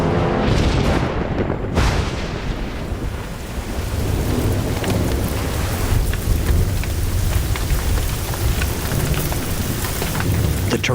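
A torrential downpour hammers down in a dense, continuous roar, with heavy thunder rumbling through the rain near the start.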